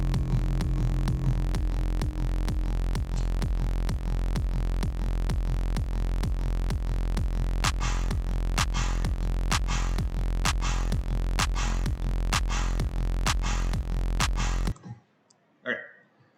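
An electronic dance beat with a steady thumping kick and bass, joined halfway through by a sharp clap sample on alternating beats, loud and evenly repeating until it cuts off near the end.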